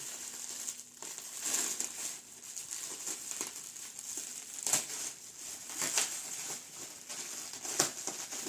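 Stretch film and polyethylene wrapping are peeled off a Turkish Brosar Olimpia Artisan mattress, 160 by 200, giving close, intermittent plastic crinkling and rustling with sharper crackles.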